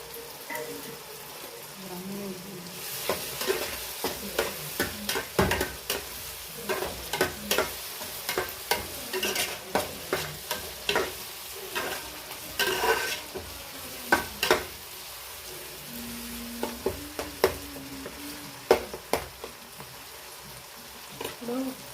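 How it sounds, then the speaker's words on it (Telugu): Curry leaves go into a pan of frying tomato, onion and green chili for a Nellore fish curry, giving a steady close sizzle broken by repeated scraping stirs; a voice speaks briefly over it. "ఇప్పుడు కరివేపాకు వేస్తాను."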